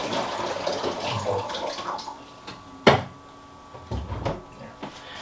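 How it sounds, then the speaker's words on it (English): Leftover water poured into the bottom tray of a mini fridge, a soft splashing pour followed by a sharp knock and a couple of duller plastic bumps, close and with no talking. "I'm actually going to dump that into the bottom tray of"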